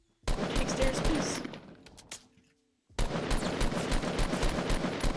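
Fortnite gunfire: a loud rapid burst of shots, a short lull with a few scattered shots, then another sustained rapid burst.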